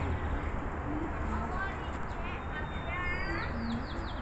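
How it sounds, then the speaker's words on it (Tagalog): Pigeons coo and small birds chirp faintly in an urban park garden atop a city building, over a steady outdoor background with voices murmuring nearby. "Mga ibon"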